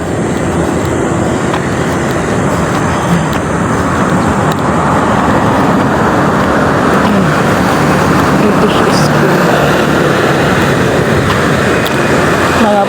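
Private vehicles roll past on a sunny Manila street beside a school, a steady broadband road roar with continuous traffic noise; people talk faintly at times.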